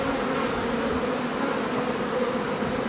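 A dense, continuous swarm of bees drones loudly at close range around a hive, a steady buzzing mass with no pauses.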